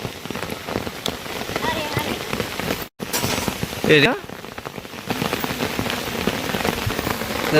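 Heavy rain pours steadily onto a farm field where buffalo graze, a loud dense patter with a brief dropout partway and a short louder burst just after.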